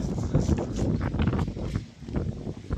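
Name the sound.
wind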